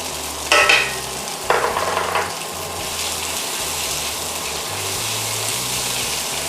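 Thinly sliced onions sautéing in a pan, a steady close sizzle with two brief louder scraping stirs near the start.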